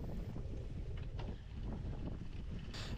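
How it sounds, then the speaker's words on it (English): Wind buffeting a rider's camera on an open, bumpy stretch of a Yorkshire cyclo-cross race at Temple Newsam, a steady low roaring rumble with gusty swells and no voices. "also quite windy on this open bit"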